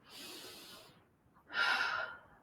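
Person breathing during a yoga stretch on the floor, two soft breaths with a pause between, the second a sharper, louder inhale.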